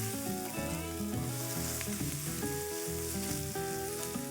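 Sliced onions sizzling over a high flame for egg thokku, a continuous frying hiss that is partly masked by loud, steady background music, with no talking.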